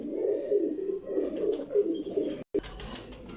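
Pigeons cooing close by, a steady run of low, rolling coos repeating every half second or so, briefly cut off near the end before resuming.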